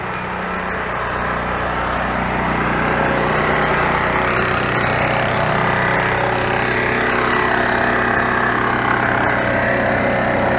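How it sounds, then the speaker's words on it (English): A generator runs beside an air compressor inflating an air mattress, making a loud, constant engine drone with a steady mechanical hum that holds unchanged throughout. "I'm going to let the generator run for a little while, and we'll keep running that air compressor until that air mattress fills up"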